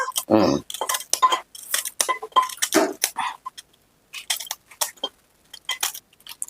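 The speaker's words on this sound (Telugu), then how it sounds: "కాకరకాయలు ఇలా కట్ చేసుకోవాలంట" Knife cutting bitter gourd at home while a Telugu-style bitter gourd chutney is prepared, giving a quick run of sharp chopping clicks and metallic clinks on a board, close and fairly loud, with short pauses between bursts.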